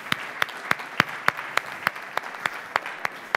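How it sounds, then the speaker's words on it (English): Steady clapping from an audience at a conference on low-cost airlines in Africa, a crisp even beat of about a dozen claps, close and clear over a low room hiss. "Come on, keep clapping."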